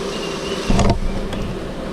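Honeybees buzz around an open hive as the brood frames are inspected, a dense close hum with a brief louder rise near the middle.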